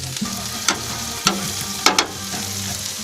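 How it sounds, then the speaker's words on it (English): Dryad's saddle wild mushrooms and caramelised onions sizzle steadily in a hot pan, broken by a few sharp clinks and scrapes of a utensil stirring. "we're just sticking the onions, the caramelised onions, in with those well frying"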